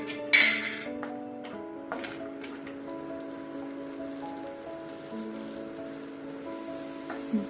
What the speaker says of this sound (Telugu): కిస్మిస్, జీడిపప్పు, బాదము ఇవన్నీ వేయించుకోవాలి.